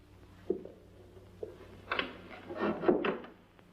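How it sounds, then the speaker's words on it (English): A door is closed indoors with a few soft wooden knocks and a muted thud, followed by a brief rattling clunk as it settles shut; quiet room with no talk. "close the door"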